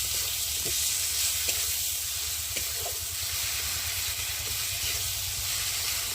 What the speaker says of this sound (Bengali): আর এখানটায় সর্ষে বাটা, আদা বাটা, জিরে বাটা দিয়ে ভালো করে কষিয়ে নেব।